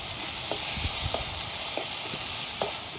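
Brinjal sizzling steadily in a pan as sauce is mixed in, with a few soft spoon scrapes and taps rising above the constant fry hiss, recorded up close.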